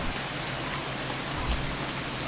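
Rain on an alien planet in a video game falls as a dense, steady hiss of drops, continuous and even with no voices.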